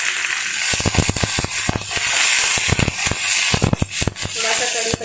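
Curry leaves crackle and sputter in hot tempering oil with garlic for dal, a dense run of sharp pops and sizzling bursts, close and loud.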